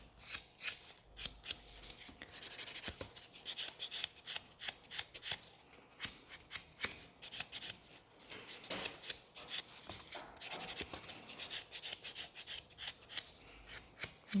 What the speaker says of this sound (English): This buffer just gives an extra nice prep for the natural nails.